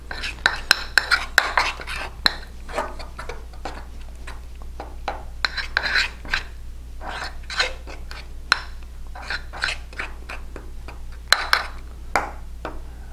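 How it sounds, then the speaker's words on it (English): A spoon stirs cake batter in a mug, tapping and scraping against the ceramic in quick irregular clinks throughout, with soft low hum underneath and no clear voice. "Just keep mixing that in"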